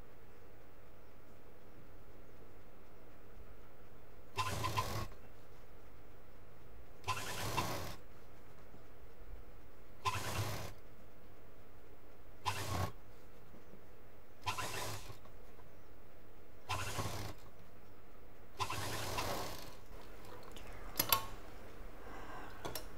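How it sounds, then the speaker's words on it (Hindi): A sewing machine stitches cloth for a shell-shaped doormat in short, regular bursts of whirring, about seven runs separated by quiet pauses of a couple of seconds. "जितना भी कपड़ा है सिलते चले जाएंगे।"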